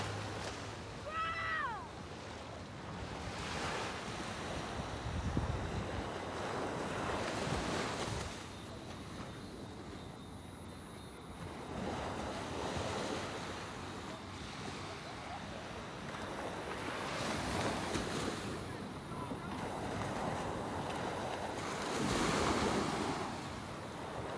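Surf rolls and washes onto the beach at Carlisle Bay, Barbados, a steady broad wash of waves with swells every few seconds and wind over the shore, a faint voice or animal cry briefly at the start.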